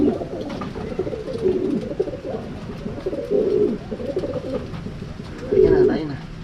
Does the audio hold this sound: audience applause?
no